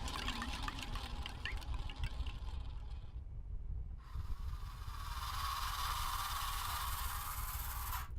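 A drink is poured in the adventure game Syberia: a few mechanical clicks and trickles, a brief pause, then a steady, loud rushing pour that runs to the end.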